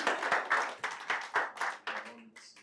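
An audience at a Nigerian community gathering in Doha claps for the president, a short run of close, rhythmic handclaps that thins out and fades at the end.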